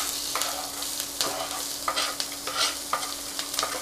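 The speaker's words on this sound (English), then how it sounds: "Add the vegetables together with the chili." Vegetables and chili frying in vegetable oil in a preheated pan, a loud bright sizzle broken by repeated stirring scrapes at an uneven rhythm, close up with no speech.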